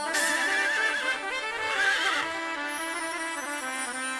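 A horse neighs loudly and close by in two quavering whinnies, then the sound fades into a soft sustained ringing tone, with no voices.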